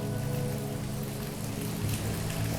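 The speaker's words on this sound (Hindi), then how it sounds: "हरिद्वार में तो बरसात भी बहुत अच्छी हो रही है।" Heavy rain falling steadily in Haridwar, a dense continuous wash of drops on surfaces with no talk, loud and unbroken throughout.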